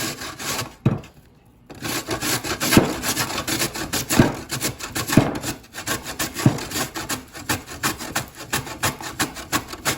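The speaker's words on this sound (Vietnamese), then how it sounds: "bào hết cà rốt và khoai tây ha" Carrots and potatoes rubbed on the coarsest side of a hand grater, making a steady, rhythmic rasping scrape close by that continues for the whole stretch with only one brief pause near the start.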